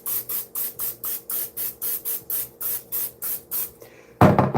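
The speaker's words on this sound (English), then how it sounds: "we need to spray this pan down though" Cooking spray hissing onto a pan in about eleven short, evenly spaced bursts, close and fairly loud, followed by a brief louder clatter at the end.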